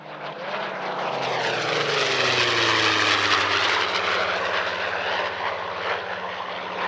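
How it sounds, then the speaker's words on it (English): A Spitfire Mark 14 propeller fighter flies past at the Air Legend 2023 airshow. Its piston engine drones with a rising then falling pitch sweep as the plane passes, fairly distant, swelling to a peak and then fading. "he's flying his Spitfire Mark 14."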